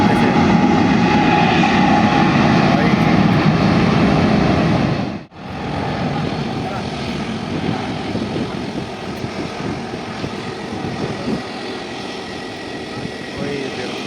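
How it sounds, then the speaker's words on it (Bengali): An airplane takes off at Mumbai international airport with a loud, continuous engine roar that dips briefly, then carries on as a steady rumble throughout. "ইঞ্জিন স্টার্ট করে দিয়েছে প্রচুর পরিমাণে সাউন্ড"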